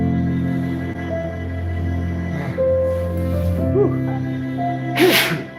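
A single abrupt, loud sneeze bursts out near the end, following a stretch of steady background hum and faint murmuring sounds indoors.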